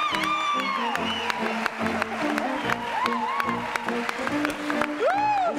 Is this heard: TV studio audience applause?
yes